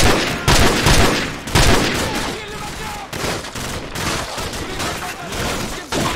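Dense, continuous automatic gunfire and loud bursts fill a combat scene in the video game Call of Duty: Modern Warfare, with rapid overlapping shots throughout.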